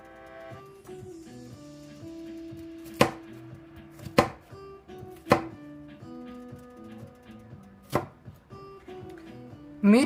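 Sticky onions being chopped on a board with a knife, producing a handful of sharp, separate thuds spaced a second or so apart over a low musical background.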